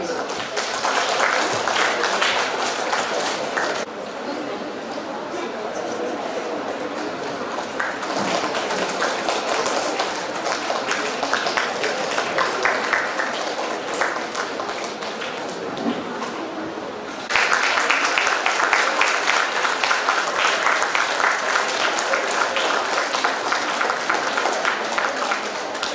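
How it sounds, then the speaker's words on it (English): An audience applauds steadily at a periodontology department event, a sustained, full round of clapping that swells louder toward the end. "A huge round of applause, please."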